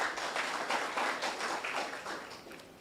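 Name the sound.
audience applause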